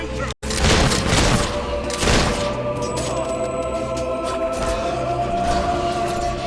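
Dense, continuous gunfire from combat in the video game Fable 3, loud and sustained with heavy thumps and cracks layered over a steady background din, apart from a brief dropout near the start.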